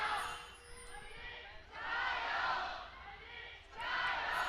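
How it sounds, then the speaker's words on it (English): A large esports arena crowd in Shanghai cheers and roars in swelling waves at a League of Legends match, rising and falling in loud surges with a commentator's voice faintly underneath. "I can hear which team the crowd is behind today"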